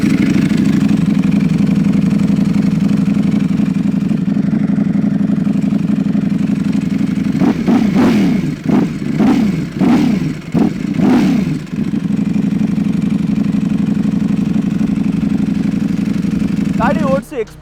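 A Ducati Panigale V4 SP2 with a dry clutch and an Akrapovic underseat full exhaust system idles close by, a steady deep rumble, with a few sharp throttle blips in the middle before settling back to idle.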